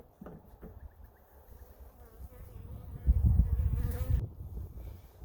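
Honeybees buzz around an opened hive during an inspection, a close, fluctuating drone that swells loudest toward the end, with faint handling noises and no talk.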